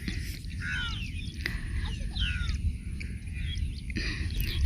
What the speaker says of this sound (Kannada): ಕಾಗೆಗಳು ತುಂಬ ಇದೆ ಕಾಗೆ ಸೌಂಡ್ ಕೇಳಿಸ್ತಾ ಇರ್ಬೋದು